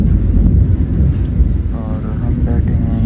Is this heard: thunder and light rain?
yes